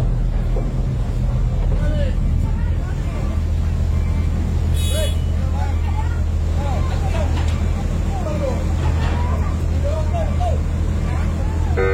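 A passenger ferry crossing Lake Toba from Tigaras to Simanindo drones with a steady low engine hum, with wind buffeting the microphone and voices talking over it throughout.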